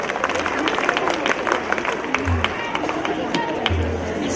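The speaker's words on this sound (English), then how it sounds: "A big round of applause and a gratitude to Sadatullah sir" An audience at a school annual-day program claps in a scattered, moderately loud round of applause, mixed with crowd murmur and some speech.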